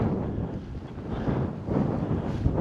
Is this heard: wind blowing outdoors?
yes